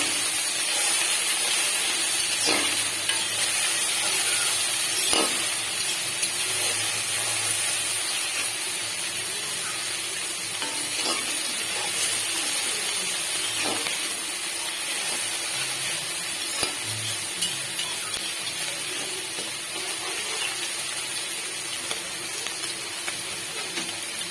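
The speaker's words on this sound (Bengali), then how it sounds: "মাছ তো ভাজা হচ্ছে, নাড়িয়ে দিলাম মাছ" Kachki fish frying in a pan alongside onions, giving a steady broadband sizzle and hiss throughout with faint scattered clicks of stirring, close and continuous with no talk.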